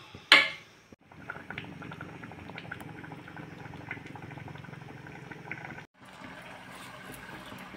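Food boiling in a covered pot on a gas stove, a steady low bubbling and simmering murmur that runs continuously, with a sharp knock at the start and a brief gap before the bubbling resumes, faint and close.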